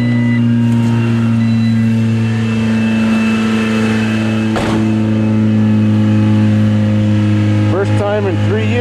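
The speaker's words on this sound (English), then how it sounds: "Sure does have a rotten muffler. Sounds great." Old Honda engine with a rotten muffler, idling loud and raspy with strong steady droning tones, then revving briefly near the end, with a person talking over it.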